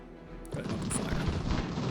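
A volley of musket fire from massed troops in Ultimate General: American Revolution erupts after a brief quiet moment, a dense, rolling crackle of overlapping shots that lingers close and loud.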